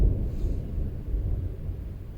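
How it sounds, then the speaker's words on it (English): Low, muffled rumble of thunder during a rainstorm at a cabin, a steady deep roll lasting the whole moment with no distinct crack, fairly faint and distant. "That's the thunder."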